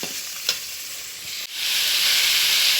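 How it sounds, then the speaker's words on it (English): Chopped vegetables for ridge gourd chutney frying in a pan with salt while being stirred, a steady loud sizzle with a scrape near the start, then a sudden burst of stronger hissing halfway through. "I am stirring the chopped vegetables for making Gourd chutney"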